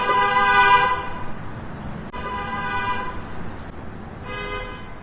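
Car horns honk in sustained, overlapping blasts in a cartoon traffic jam, one long toot then two more held honks, fairly loud and close.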